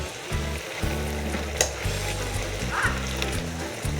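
Carrot halwa, Bengali style, stirred in an open pan with a steady sizzle and soft scraping, close and moderately loud, with a low hum running underneath throughout.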